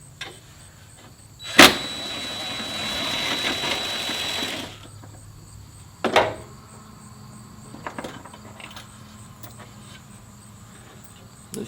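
A DeWalt power driver with a 10mm socket backs out a headlight bolt on a Ford Excursion: a sharp clack, a whirring run of about three seconds, then another short burst and a few quieter clicks.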